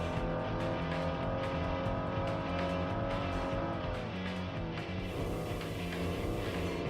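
In the Tokyo Xtreme Racer Drift video game, a Subaru Impreza's naturally aspirated 2-liter inline-4 drones loudly and continuously. It labours and bogs down, with its pitch sagging partway through before it pulls again.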